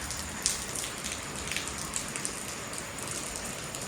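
Heavy rain pours down steadily, a dense, even patter of drops on surfaces with occasional louder splashes, continuous and close with no voices.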